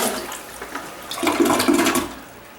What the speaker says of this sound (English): Let's see how low this goes when you just pour some water down it.